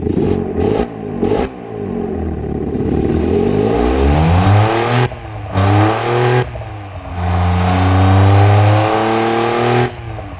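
A small car in the Automation game revs loud with no mufflers, the engine rising and falling in pitch through several bursts with brief gaps, then a long sustained rev near the end.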